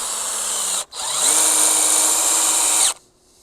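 A power drill drives screws into a 2x4 header on a garden trellis: a brief whir, a short gap, then a longer, steady high-pitched run that winds down, all close up with no talking.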